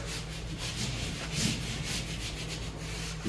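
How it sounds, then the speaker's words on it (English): Continuous rubbing by hand over a freshly installed vinyl top on a 1968 Thunderbird, a close, steady back-and-forth scrubbing swish with no voices. "I'm gonna give this a good rub down."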